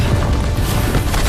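A loud, dense rumbling blast of a spirit ring explosion in the animated series Soul Land fills the whole moment, heavy and booming.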